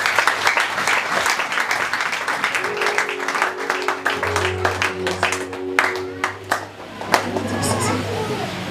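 Congregation in a Sunday church service applauds, a lively burst of clapping mixed with crowd voices and sustained tones, with talking and a voice audible alongside.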